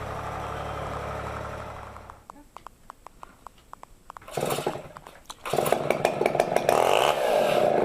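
A chainsaw mill runs on a bur oak log: the saw idles with sputtering ticks, then revs up loudly into a sustained, high whining cut that continues to the end.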